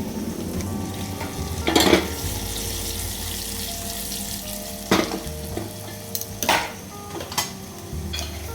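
Curry leaves and turmeric hit hot oil for a buttermilk kadhi, giving a soft continuous sizzle broken by several sharp crackling spits and splashes, close and moderately loud with no talking.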